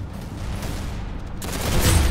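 Gunfire bursts from the Roblox game Arsenal, a fairly loud rattle of shots that swells toward the end over steady game background noise.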